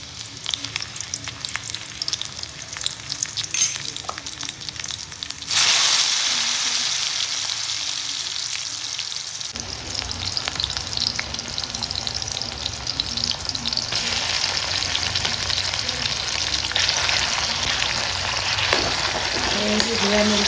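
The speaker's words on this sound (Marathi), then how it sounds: "तुम्हाला दाखवते मी कसं फ्राय करते ते आणि कशा फोडणीला घालते." Marinated fish, such as eel and Bombay duck, fries in a pan with tempering in an Agri-Koli home kitchen, a strong, close, steady sizzle with stirring, swelling louder partway through, no talking.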